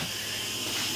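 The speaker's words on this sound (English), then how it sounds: "The pressure cooker steam coming out." A pressure cooker, cooking potatoes, releases steam in a loud, steady hiss that continues without a break and is heard alone.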